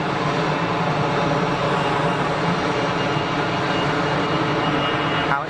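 easyJet Airbus A320 on its takeoff roll at Geneva Airport, a loud, steady, continuous jet engine roar and rumble, close and unbroken throughout with no talk.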